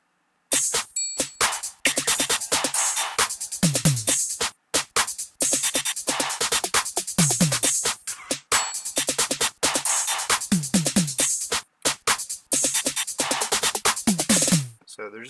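Trap drum beat with rapid snare rolls and a pitched tom, looping loudly with dense hi-hat ticks and short gaps between bars, played alone without talking.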